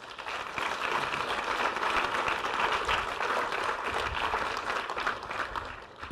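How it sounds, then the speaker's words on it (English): Audience applause at a conference talk, fairly faint but steady clapping from a roomful of people, fading in at the start and easing off near the end. "Can we get a round of applause for Hanjin?"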